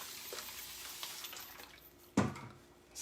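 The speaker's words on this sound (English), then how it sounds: "I'm going to add a little bit of water" Water is splashed onto hair during clipper styling, with a faint watery hiss and then one sharp splash near the end, heard close and alone.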